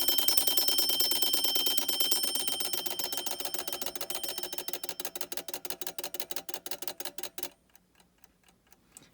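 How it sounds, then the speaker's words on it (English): A 1935 Westclox Sleep-Meter alarm clock rings loud and close as a rapid metallic bell rattle that slows into spaced strikes and stops abruptly, leaving faint ticking behind. "now we have the alarm actually running"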